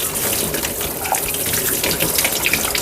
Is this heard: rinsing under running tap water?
yes